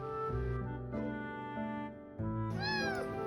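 Kittens meow loudly and close by while being fed, giving several clear, drawn-out cries in quick succession with brief pauses between them.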